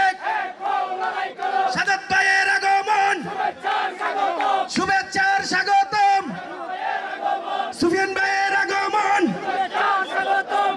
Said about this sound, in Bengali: সবাই একটি স্লোগান দেন, জিয়ার সৈনিক, জিয়ার সৈনিক